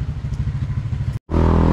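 A motorcycle setting off with a rider and passenger, its engine pulsing in a steady low chug, then a brief cut before a louder, smoother drone as it gets under way.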